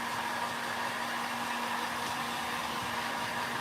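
A hair dryer blows steadily and loudly at close range, drying and warming a WoodUbend moulding, with a constant airy roar and a faint motor hum throughout and no talking.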